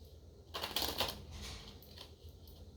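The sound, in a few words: shuffling Lenormand cards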